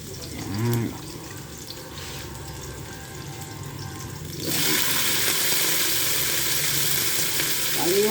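Vegetables added to onions frying in a pan. The sizzle is quieter at first and jumps to a loud, steady hiss midway, with a brief bump of handling near the start.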